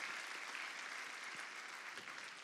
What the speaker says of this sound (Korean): 다시 한번 오늘 찬양해 주신 분들 위해서 한번 뜨거운 박수로 보내주세요.